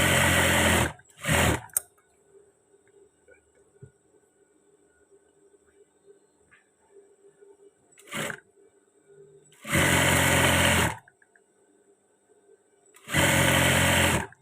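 Short bursts of a sewing machine stitching a folded trouser waistband, close and loud, with four separate runs of a second or two each between long quiet pauses.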